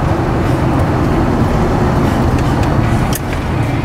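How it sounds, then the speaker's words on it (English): Inside the cab of a 1986 Ford F-150 pickup, the engine runs with a steady low rumble and road noise, loud and continuous, with a brief dip near the end. "Really nice running 86 Ford F-150 here"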